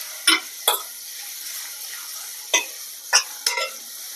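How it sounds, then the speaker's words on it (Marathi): Chopped onion sautéing in a pan until golden, with a low steady sizzle and a few sharp scrapes of a spatula stirring it, close and clear. "आपल्याला हा कांदा हलकासा सोनेरी रंगावर परतून घ्यायचा आहे।"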